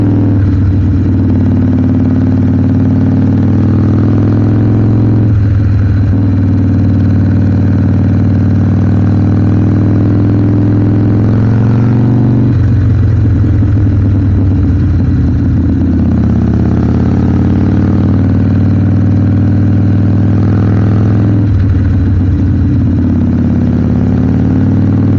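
Harley-Davidson Sportster 1200 motorcycle ridden along curvy country roads, its engine and exhaust giving a loud, steady, low rumble that rises and falls gently with throttle changes throughout.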